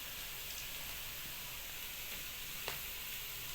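Chicken liver fries in a pan with a faint, even sizzling hiss, quiet and steady, with one small clink partway through and no talk.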